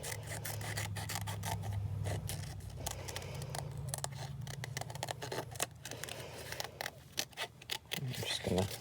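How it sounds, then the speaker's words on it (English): Scissors roughly trim around a black-and-white paper tree picture for a quilling mini collage, giving quiet, close snips and paper rustles in irregular bursts over a low steady hum. "I'm just going to roughly trim around this."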